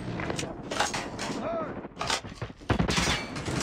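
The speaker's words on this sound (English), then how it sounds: "Sentry gun deployed." A sentry gun in Call of Duty multiplayer fires in sharp, loud bursts of shots that come in irregular clusters, with short gaps and mechanical clatter between them.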